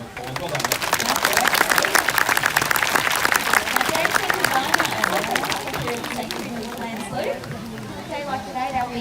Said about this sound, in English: Probably give her a round of applause.